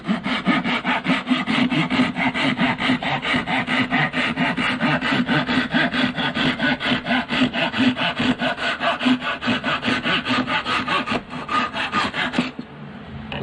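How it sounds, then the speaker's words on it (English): A Japanese pull saw cuts through wood with loud, close, rhythmic rasping strokes that continue steadily for about twelve seconds before stopping, with no voices. "Little Japanese pull saws, man, they are accurate cutting."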